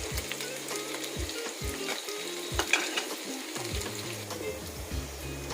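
Small chopped garlic pieces sauté in oil. A soft, steady sizzle runs throughout, broken by repeated scraping and stirring strokes against the pan.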